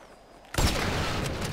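GTA V gunfire: after a short quiet stretch, a sudden loud burst of rapid shots that continues as a dense, sustained volley to the end.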